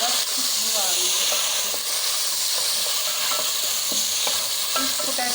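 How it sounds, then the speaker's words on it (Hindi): Potatoes fry in hot oil with green chili, cumin and garlic, producing a loud, continuous hissing sizzle up close, with occasional soft scraping from stirring. "इस पोटैटो को हम भून लेंगे"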